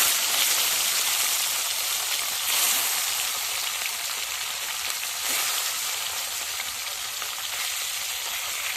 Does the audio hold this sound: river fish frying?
yes